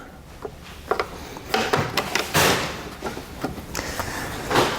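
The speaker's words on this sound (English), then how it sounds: "Take a small screwdriver. You need to pop these loose." Small screwdriver prying plastic taillight caps loose on a vehicle's open hatch, a run of close, sharp clicks, taps and scraping knocks coming in uneven bursts at moderate loudness.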